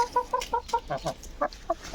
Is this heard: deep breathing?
no